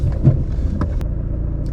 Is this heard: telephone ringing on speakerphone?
no